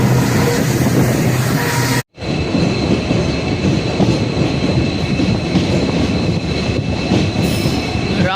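A passenger train from Rameswaram to Velankanni rumbles along loudly and steadily, heard up close from on board, with continuous wheel noise and faint squealing.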